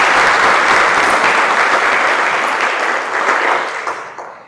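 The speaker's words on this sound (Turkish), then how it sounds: "Bir kere daha bir alkış istedim." An audience applauds at an opera awards ceremony. The clapping is loud and sustained, a dense wash of many hands that stays strong before tapering off near the end.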